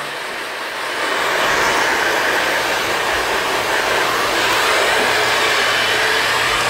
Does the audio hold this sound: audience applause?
no